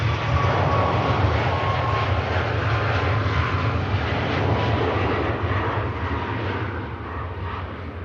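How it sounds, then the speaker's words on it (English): Airbus A380 jet engines spooling up for departure at Manchester Airport, a loud, steady roar with a whining edge that holds for several seconds and then eases slightly toward the end, heard from a distance with no talk. "I think it is the 380 engines just being spooled up."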